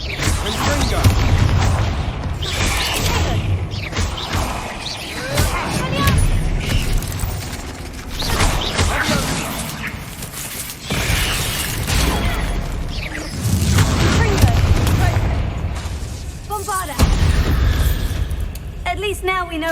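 Confringo spell blasts in the Hogwarts Legacy game, a fantasy wizard adventure, burst as heavy booming explosions with crashing debris inside a tomb, repeating in loud waves under shouted spell voices.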